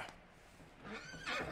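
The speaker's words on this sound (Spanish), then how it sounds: "El caballo" A horse in Red Dead Redemption 2 gives a short whinny and snort near the end, close and fairly quiet, after a soft breathy lead-in with no talk.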